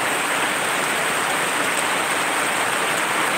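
Heavy rain pours down in a dense, constant hiss, loud and unbroken throughout.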